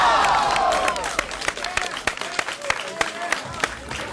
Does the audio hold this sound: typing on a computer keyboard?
no